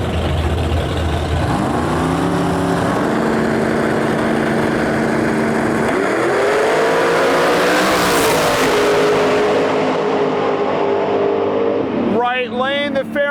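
Drag racing cars, including an 81 Fairmont, launch and scream down the track at True Street, engines rising through gears in a loud, sustained pass with shifts, under talk.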